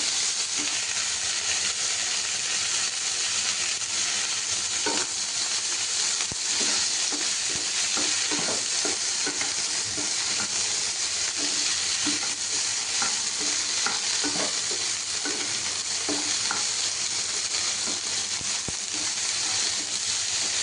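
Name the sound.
crackling sizzle of food frying in pan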